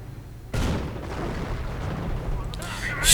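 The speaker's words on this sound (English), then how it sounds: "Artillery opening up." Artillery barrage in a World War II strategy game, a heavy boom breaking in and then a sustained rumbling roar of distant shelling, with another burst swelling at the end, over battlefield noise.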